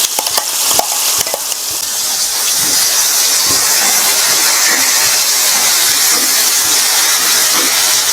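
Coarsely ground urad dal goes into hot sesame oil for mango-ginger pickle and is stirred, giving a loud, steady sizzle and frying hiss with a few sharp clatters of the spoon near the start.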